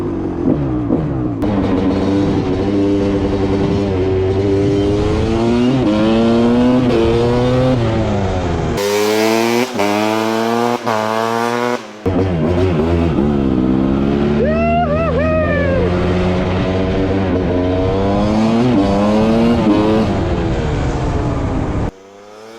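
A Kawasaki KX250 two-stroke dirt bike runs loud and close, its raspy engine note rising and falling through repeated revs. A short higher-pitched buzzy burst comes midway, and it idles between blips.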